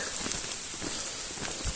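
Rain in cold, windy weather on an exposed hilltop in the Shropshire Hills, a steady close hiss of falling rain and wind noise with no talk.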